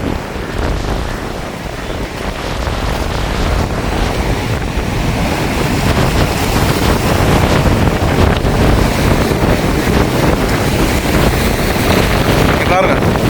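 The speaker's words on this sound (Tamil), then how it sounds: "இந்த சத்தத்தை கேட்டாலும் தெரியும் உங்களுக்கு எவ்வளவு பயங்கரமாக வந்து புயல் அடிக்குதுன்னு சொல்லி" Storm wind roars continuously with heavy sea waves crashing and surging along a coast during a red-alert cyclone in Jaffna, loud and dense throughout with no voices.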